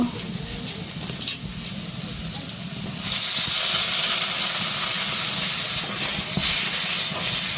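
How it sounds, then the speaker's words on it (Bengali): A pot of curry being cooked down, with water poured into the hot pan. A loud steady hiss and sizzle bursts up about three seconds in and holds to the end, following a quieter low bubbling. "তরকারি কষানো হয়ে গেছে গা আমি জল দিয়ে দিব"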